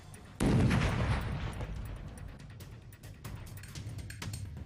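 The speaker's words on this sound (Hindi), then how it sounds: "अगले ही पल हुआ एक जोरदार धमाका।" A sudden, loud explosive blast goes off, like a hidden explosive device detonating, then trails into a long rumbling, crackling decay with scattered pops and debris noise.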